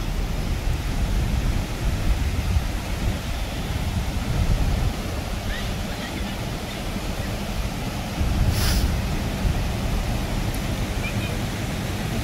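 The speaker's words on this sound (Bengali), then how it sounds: "জলের স্রোতটা কিন্তু মারাত্মক।" Strong mountain water current rushing near Bumla Pass on the Indo-Tibet border, a steady loud broadband roar filling the whole stretch with no break.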